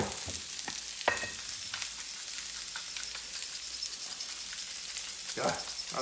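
Food frying and stirred in a pan while being seasoned with salt and pepper, a steady broadband sizzle with occasional scraping clicks and clatters of the utensil, moderately close, with no talking.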